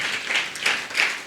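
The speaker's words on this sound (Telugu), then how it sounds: "క్లాప్స్ కొట్టి దేవుని మహిమపరచండి" A church congregation claps during a Sunday service, a brief dense patter of many hands rising in soft waves.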